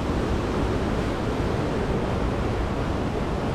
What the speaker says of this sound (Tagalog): Ang lakas ng current ng tubig.